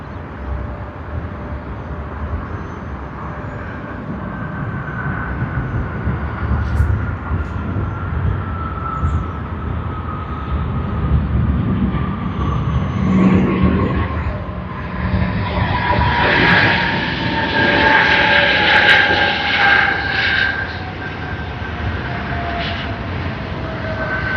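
Philippine Airlines flight PR 211 arriving at Sydney Airport, a steady distant jet engine roar with a slowly falling whine that swells and fades over a long stretch of outdoor background noise.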